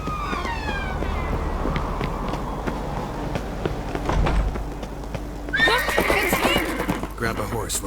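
A horse whinnies loudly in the video game The Witcher 3, followed by galloping hooves and scattered thuds, with a second neigh rising near the end over a busy game soundscape.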